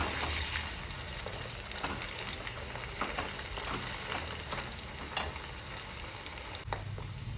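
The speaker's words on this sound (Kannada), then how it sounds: "ಈ ಥರ ಎಣ್ಣೆಯಲ್ಲಿ ರೋಸ್ಟ್ ಮಾಡ್ಕೋಬೇಕಾಗುತ್ತೆ ಪನ್ನೀರ್ನ." Paneer roasting in oil in a pan on a low flame, a steady crackling sizzle with small pops and occasional stirring scrapes, continuous and close.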